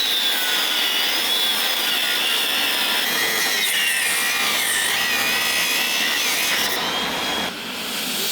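A cutting tool grinds continuously against a WWII KV-1S tank hull, striking stainless steel. The harsh, high-pitched rasp is loud and close and carries on without pause.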